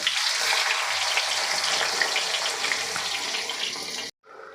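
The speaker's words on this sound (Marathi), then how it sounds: "कांदा तळत असताना आपल्याला गॅसची फ्लेम मोठी ठेवायची" Three thinly sliced medium onions frying in oil over a high gas flame give a dense, steady hiss that stays loud and close, then cuts off abruptly near the end.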